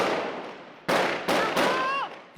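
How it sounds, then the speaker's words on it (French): Three or four loud, close gunshots ring out during fighting in Syria, each a sharp crack followed by a long echoing decay. "Les tirs s'intensifient"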